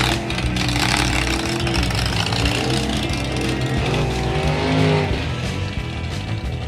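A Buick-engined rail dragster tears down the drag strip at a dragstrip reunion event with a loud, sustained, raspy engine roar that holds close and heavy for several seconds before easing slightly.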